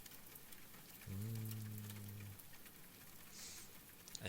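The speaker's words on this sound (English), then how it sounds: "It's a rainy day." Soft rain falls on a rainy day, a quiet, distant, steady patter, with a brief low humming tone partway through.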